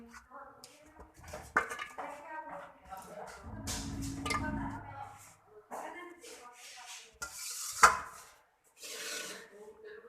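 About two dozen chicken paws are dropped into a cooking pot, with scattered clinks, rubbing and knocks of pan and utensils, some sharp metallic hits, and brief stretches of faint talk.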